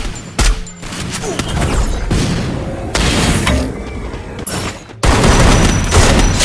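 Rapid bursts of gunfire from a shooter video game played in a tournament, loud and dense with sharp cracks and booms that come in clusters, with a heavy onset near the end. No voices are heard.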